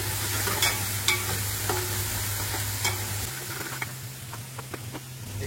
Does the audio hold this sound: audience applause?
no